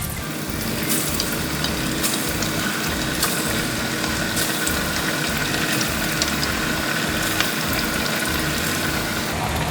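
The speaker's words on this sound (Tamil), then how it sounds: "எண்ணெய் சூடாக இருக்குது, எண்ணெயில் போட்டு பொரிச்சு எடுப்போம்." Chickpea and egg vadai frying in hot oil, a loud, dense, even sizzle and crackle heard close up that carries on steadily without pause, with no talking.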